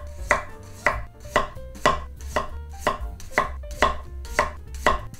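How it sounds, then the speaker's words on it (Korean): A knife slices through radish on a cutting board for pickled radish wraps, with about ten crisp, evenly spaced chops in a steady rhythm, close and clear with no talking. "이제 한번 썰어 보겠습니다."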